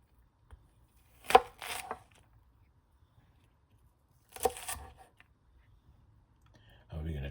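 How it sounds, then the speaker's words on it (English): A knife cuts okra into pieces on a board, making two brief clusters of crisp chopping taps separated by quiet. The sound is close and faint. "Let's slice them in 4 pieces."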